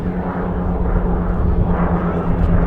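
A Spitfire and a Hurricane, Battle of Britain fighters, roar past together at a Scottish airshow, a loud, steady broadband engine drone that swells slightly and never drops away.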